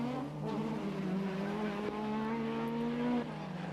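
Rally car at speed on a stage of the Donegal International Rally in Glen, its engine note rising and holding steady as it drives past, fairly distant and steady, without talk.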